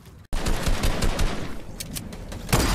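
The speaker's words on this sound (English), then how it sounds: "I sniped the guy killing you, or shooting at you guys." Rapid gunfire in a video game: a dense run of loud, closely spaced shots and cracks keeps going for most of the stretch, with a sharper burst near the end.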